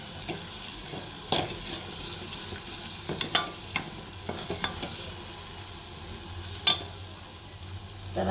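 Masala browning in oil in a pan, with a steady low sizzle under scattered sharp scrapes and clinks of a spoon stirring, including one louder clink near the end; no one speaks.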